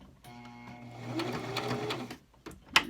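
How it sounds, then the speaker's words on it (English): Sewing machine stitching a fabric face mask runs in a short, fast burst of mechanical whirring and needle clatter, ending with a few clicks. "Okay, so I'm just going to sew."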